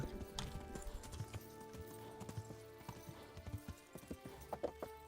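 A horse gallops in the video game Kingdom Come: Deliverance, its hooves clip-clopping in a steady rapid rhythm with occasional louder beats over a background game score.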